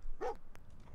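A dog in the video game Fallout 4 gives a single short, close bark around a quarter second in, followed by quieter whimpering sounds and faint background noise.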